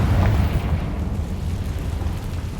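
A Confringo spell blast explodes in Hogwarts Legacy, a loud deep boom with rumbling low end and crackle that starts strong and stays as a lingering roar without fading much.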